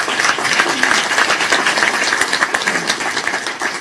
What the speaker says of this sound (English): I'd like to give them a huge round of applause